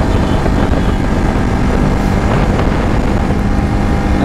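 Motorcycle riding on the road, probably a Royal Enfield Himalayan or KTM, gives a continuous loud engine and exhaust drone mixed with heavy wind buffeting on the microphone, steady for the whole stretch.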